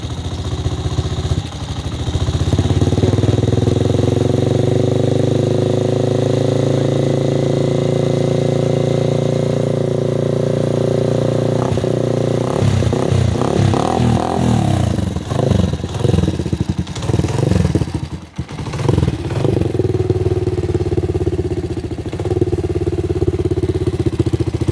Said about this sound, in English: I know how you love Royal Enfields